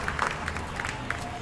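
An audience at a graduation ceremony claps for the graduates' supporters, a steady patter of many hands, moderately near and continuous.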